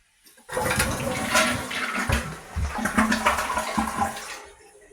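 A toilet flushes loudly after a brief quiet moment, rushing water swirling for a few seconds before easing into the hiss of the tank refilling, with a Fluidmaster seal fitted.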